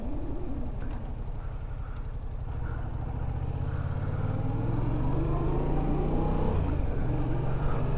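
A deep, steady V8 car engine rumble with a low, muffled exhaust note, idling and then rising slightly in revs, fairly close and continuous without talk.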